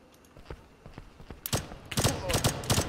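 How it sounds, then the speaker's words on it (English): Video game gunfire crackles in bursts of sharp rapid shots, sparse at first then dense and loud in the second half, with talk around it. "Stop shooting at me."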